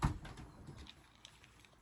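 Pet pigeons cooing in a loft, soft low murmuring coos near the start fading into faint scattered bird sounds and light patter, quiet and somewhat distant.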